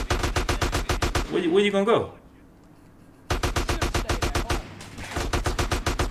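Rapid bursts of automatic gunfire from GTA San Andreas Definitive Edition, loud and rhythmic, stopping for a spell while a voice speaks over a brief gap, then resuming in sharp repeated volleys.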